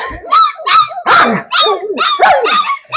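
Long-coat German Shepherd dogs bark loudly and close by, about six sharp, rapid barks in quick succession, some with a yelping edge.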